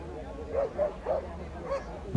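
A few short, yappy dog barks spaced about a quarter second apart, moderately close, at a dog show in Luhara, Moga, over a low background hum.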